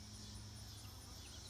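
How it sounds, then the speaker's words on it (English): Honeybees from two backyard hives bearding on a hot day, a steady, dense buzzing hum that carries on evenly with no voices over it. "And then there's the bees. The bees are hot."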